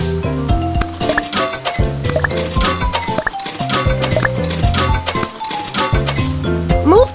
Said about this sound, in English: Please insert coins first.